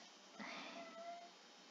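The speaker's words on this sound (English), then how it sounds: "please excuse my cat" A pet cat meows once, a drawn-out, wavering cry that rises and then falls, close by yet faint and quiet against a low room hiss.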